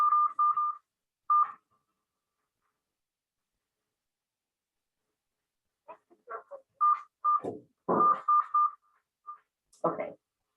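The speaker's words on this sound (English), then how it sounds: "I'm going to enter the meeting ID from the phone" Telephone keypad tones punched in to enter a meeting ID: a few quick beeps, a pause, then a longer run of short, irregularly spaced beeps with soft voices mixed in among them.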